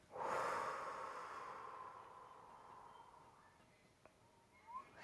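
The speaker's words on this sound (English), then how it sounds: "It's a double inhale through your nose, and then a top off, and then a long exhale through your mouth." A person breathes deliberately, drawing air in through the nose before releasing one long, gradually fading exhale through the mouth, close and quiet, with no talking.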